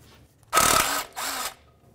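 An electric impact tool works loose the flywheel bolts on a 2006-2011 Honda Civic during a clutch replacement, giving two close, loud rattling bursts, the first longer, with short quiet gaps around them.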